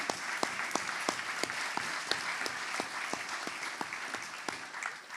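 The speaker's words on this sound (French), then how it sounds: "Jérôme Durin, vous pouvez l'applaudir." A conference audience applauds a speaker, a steady wash of clapping with distinct individual claps standing out in a fairly regular rhythm throughout.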